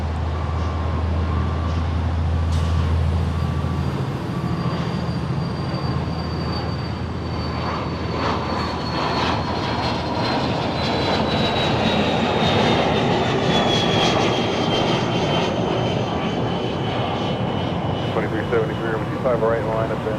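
Airliner taking off from runway 25 right at Los Angeles International Airport, a steady loud jet roar that builds and holds throughout, heard at a distance, with air traffic control radio chatter running underneath.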